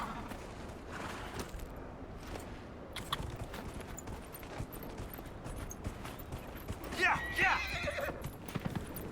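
Horse neighing and hooves clip-clopping in the video game Dragon Age: Inquisition, with a steady galloping rhythm under continuous game noise and a louder whinny toward the end; a person talks over it.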